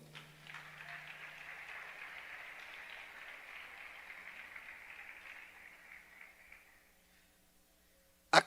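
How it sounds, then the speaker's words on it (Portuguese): A congregation at a Portuguese-language church service claps together in a faint, distant, steady wash that gradually dies away, ending with a sharp close click. "Dê um aplauso ao Senhor."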